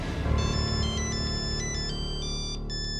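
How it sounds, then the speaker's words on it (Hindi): A mobile phone ringtone plays a repeating electronic melody of bright beeping notes, steady and moderately loud over a background music bed in an indoor drama scene. "इस वक्त किसका फोन आ गया?"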